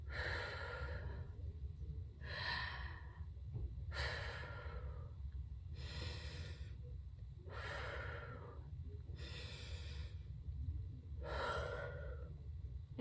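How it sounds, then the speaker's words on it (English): Slow, deep breathing exercise at a children's library storytime: about seven long breaths in and out in a steady rhythm, close and fairly soft, with no talking over them. "So we breathe in"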